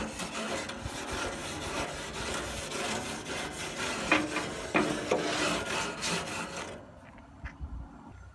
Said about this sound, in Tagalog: linisin natin yung ating barbecue grill